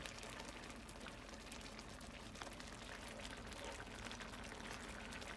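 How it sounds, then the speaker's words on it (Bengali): Water poured into a pan of pineapple chutney cooking on a gas flame, a steady broadband splashing and bubbling that holds even and fairly quiet throughout, with no voices. "এবার আমি এর মধ্যে দিয়ে দেব জল।"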